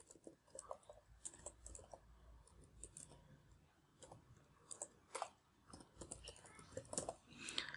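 Quiet, irregular keystrokes on a computer keyboard as an email address is typed into a website sign-up form, soft clicks in uneven bursts with faint background noise.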